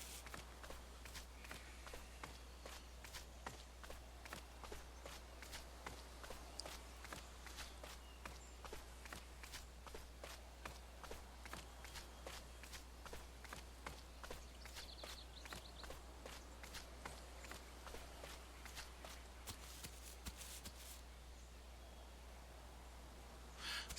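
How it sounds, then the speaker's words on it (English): Footsteps of a character walking in the survival game The Island, a steady, quiet, evenly paced series of soft steps over a low ambient drone, continuing for a long stretch. "I heard a change in footsteps."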